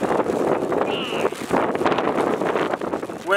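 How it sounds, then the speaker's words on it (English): Strong wind sweeping across the Schuylkill River, buffeting the microphone with a loud, steady, rumbling roar that barely eases throughout. "That's a strong wind."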